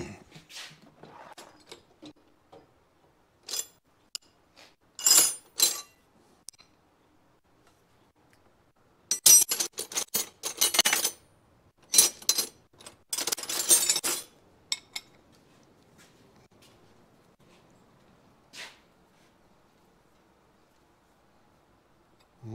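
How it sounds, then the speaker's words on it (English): Metal tools clink and clatter in bursts as someone rummages for a wrench while working on a 1973 Suzuki TC125 front fork, with scattered quiet pauses between handfuls. "let me find a wrench here."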